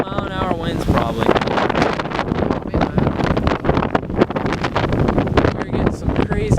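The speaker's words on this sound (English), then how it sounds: "We're getting some crazy freaking gusts." Strong wind gusts from a severe summer storm batter the microphone in loud, ragged roaring bursts, with a voice speaking over parts of the noise.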